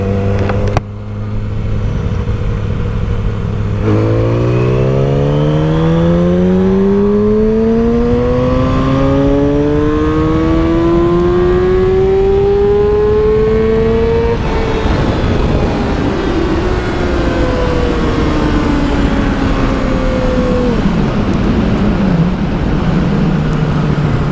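A 2007 Yamaha R6 sport bike fitted with a Power Commander 5 revs hard and continuously, its pitch sweeping up through rising gears before easing back down, loud and close throughout with no talking.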